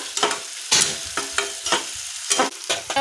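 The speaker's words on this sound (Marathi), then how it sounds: "टोमॅटो चांगला शिजवून घेऊ आपण।" Chopped tomatoes sizzle and hiss in a pan over browned fried onion for dal tadka, with several sharp stirring scrapes breaking through a steady close frying sound.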